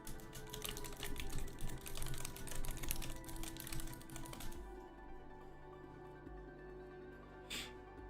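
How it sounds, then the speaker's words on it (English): Rapid, dense keystrokes on a computer keyboard during game development work, a quiet continuous clatter that stops abruptly about halfway through, leaving a low electronic hum and one brief faint tap. "I was typing in here, I think."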